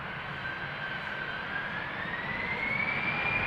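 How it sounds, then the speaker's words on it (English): Steady broadband roar of an EasyJet Airbus A319's jet engines as the aircraft waits at the runway 36L threshold at Amsterdam Schiphol, a continuous loud drone with a faint rising whine, no voices. "At the threshold at the moment is EasyJet A319 outbound to Birmingham"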